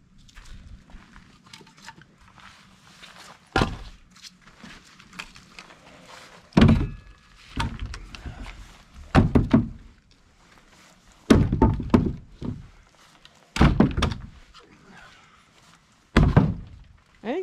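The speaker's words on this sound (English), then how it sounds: "We'll be firing up the splitter here. Split that," A log splitter working through firewood outdoors in cold weather, giving a series of loud, sharp wooden cracks and thunks spaced a second or two apart, with quieter rustling between splits.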